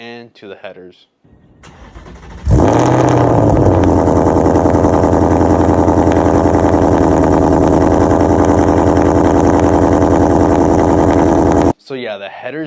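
A Ford Mustang GT fitted with headers cranks and barks to life, then holds a loud, deep, rumbling idle that stays steady and close for several seconds; people talk before and after.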